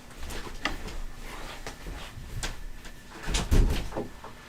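A household door is worked open to let dogs inside, giving a string of soft knocks and scrapes, with a louder thud near the end and no voices.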